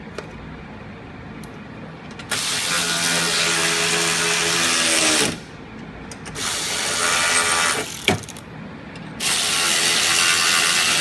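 A ratchet with a 15 mm socket working on a 6.0 Powerstroke diesel engine, rapid loud clicking in three long bursts separated by short pauses, close up with no talking.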